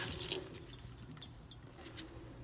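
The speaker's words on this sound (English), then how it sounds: "I'm running cold water on it." Cold tap water runs into a sink over a freshly drilled, still-warm piece of granite, a steady close splashing trickle heard alone.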